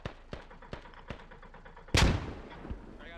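In the Squad video game, a frag grenade bursts in one loud, close blast amid a steady patter of single gunshots firing before and after it.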